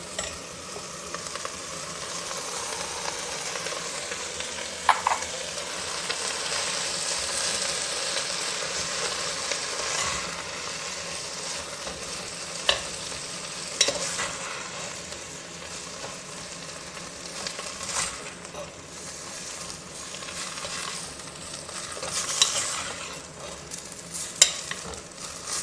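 Drumstick leaves and pumpkin leaves stir-fry in a pan for a Tamil keerai poriyal, giving a steady close hiss and sizzle with soft scraping stir strokes and a few sharper clicks throughout.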